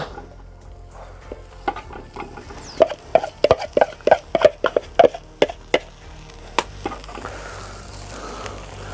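Leeks sizzle in oil in a pan over a rocket stove. A burst of sharp crackles and spits pops in quick clusters, then thins to a softer hiss.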